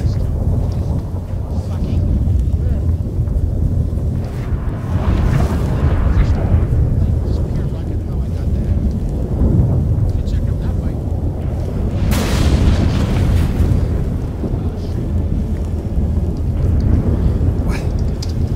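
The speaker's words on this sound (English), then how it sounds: "That a storm?" A storm in The Witcher 3 brings a steady, loud rumble of wind and rain with heavy low booms of thunder, swelling around the middle and again later, continuous throughout.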